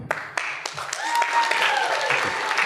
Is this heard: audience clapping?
yes